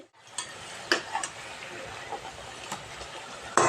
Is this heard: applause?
no